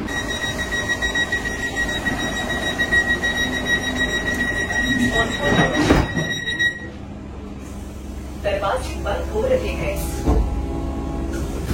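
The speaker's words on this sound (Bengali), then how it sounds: "6:15 কিষানগঞ্জে ঢুকলো আজকের 22233 এনজিপি পাটনার নতুন বন্দে ভারত।" The new Vande Bharat express, train 22233 running New Jalpaiguri to Patna, pulls into Kishanganj station with a steady electric hum and whining tones that shift partway through, mixed with nearby voices and platform bustle.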